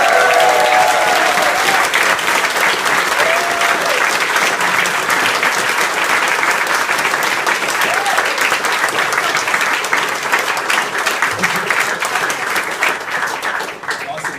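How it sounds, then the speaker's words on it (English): A large crowd at an Ottawa political rally breaks into a long, loud, dense round of applause that keeps going steadily for the whole stretch, with faint voices mixed in. "give them all a loud round of applause"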